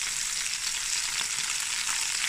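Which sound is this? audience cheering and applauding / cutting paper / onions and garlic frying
onions and garlic frying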